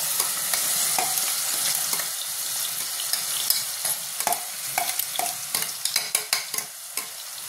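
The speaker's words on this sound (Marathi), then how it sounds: "आता आपण ही चटणी ह्याच्यामध्ये टाकूया." Onion chutney with turmeric is stirred and fried in a pan, a continuous close sizzle with scraping stirs that give way to sharper, separate clinks and scrapes near the end, with no talking.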